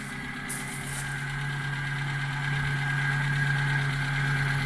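A 1970s Austin Allegro, revived after sitting thirty years in a farmer's barn, runs at a steady idle with a continuous low engine drone and a faint knocking vibration, close and constant, with no voices.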